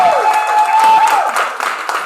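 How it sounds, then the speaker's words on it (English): Open mic audience applauding a performer as she leaves the stage, a dense wash of clapping with a sustained tonal ring near the start, steady and fairly loud throughout. "One more time, give it up for Tori Shine."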